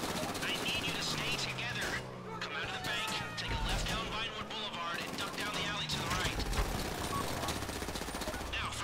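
Gunfire in GTA 5 Online strikes the player, with dense bursts of rapid shots and chaotic impacts layered over excited voices talking throughout.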